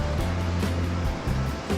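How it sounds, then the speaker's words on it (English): Ocean waves break on the shore at sunrise in a steady, loud wash of surf that rises and falls without pause and carries no voices. "I'm still shooting the waves breaking."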